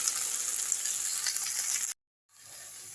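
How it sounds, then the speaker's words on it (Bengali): Potatoes and mixed vegetables sizzle steadily in a pan, a close, even frying hiss that cuts off abruptly for a moment before a quieter sizzle resumes. "এইভাবে আমি দেখো আলুর সঙ্গে সমস্ত সবজিগুলোকে খুব ভালো করে ভাজা ভাজা করে নিচ্ছি।"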